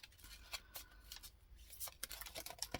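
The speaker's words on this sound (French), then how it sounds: "Je bats les cartes." Lenormand cards being shuffled by hand, a soft quiet riffling and flicking of paper cards in short irregular bursts, close and alone.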